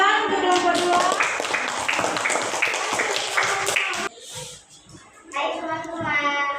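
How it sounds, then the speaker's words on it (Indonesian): Classmates clap for a presentation group in a school classroom, a dense patter of hand claps layered with children's voices, pausing briefly before chatter and clapping resume. "Oke, tepuk tangan untuk kelompok 2."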